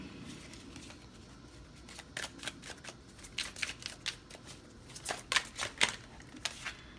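Tarot cards are shuffled by hand in a run of crisp riffling bursts that grow denser and louder toward the end, near and alone without talk.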